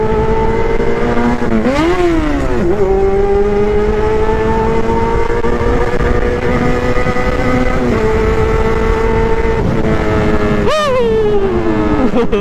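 A loud superbike motorcycle engine holds a steady, close high-pitched drone with several sharp revs and throttle blips, dominating throughout.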